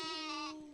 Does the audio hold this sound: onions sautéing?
no